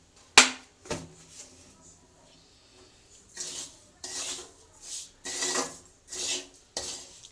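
Onions frying in a kadai are stirred with a metal spatula, giving repeated scraping and clinking strokes: two sharp knocks near the start, then a rhythmic run of rasping stirs, close and fairly loud.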